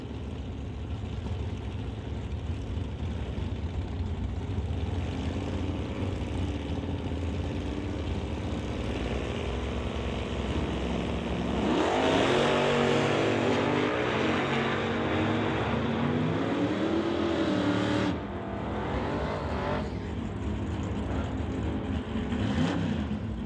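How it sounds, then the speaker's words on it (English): A Dodge Demon and a Coronet run side by side at a non-electronic drag racing event, their engines roaring continuously, with rising, wavering pitches and a louder surge midway before easing off. "Terry Kramer will bring up the Dodge Demon to race Barry Patterson in the Coronet"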